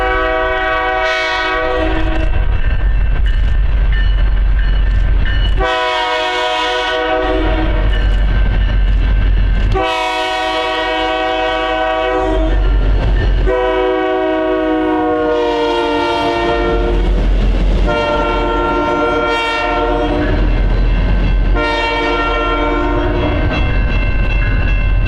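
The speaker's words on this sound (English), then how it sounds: "Upon leaving the yard, we caught a BNSF light power move" BNSF light power locomotive move with BN and Santa Fe heritage units, repeated loud horn blasts in long and short sounds over a steady rumbling locomotive engine passing close by.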